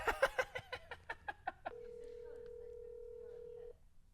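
A phone call rings out unanswered: a run of about ten short rhythmic dial tones or rings, then a long steady single tone before a voicemail greeting begins, fairly quiet with no voices over it.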